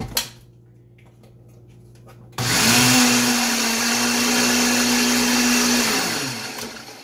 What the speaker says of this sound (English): now I'm going to blend that so that it becomes a mixture that I can add other things to